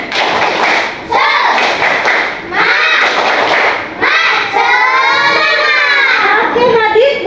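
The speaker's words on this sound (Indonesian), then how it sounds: "tepuk semangat." A class of fourth-grade children performs a rhythmic spirit clap, bursts of clapping and chanting voices in a steady pattern, loud and close, with a teacher's voice between rounds.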